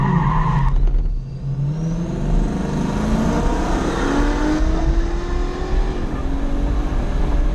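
A turbocharged Chevrolet Camaro 1LE launches on an eighth-mile drag strip, its engine note climbing steadily through gears, loud and continuous with a rising whine.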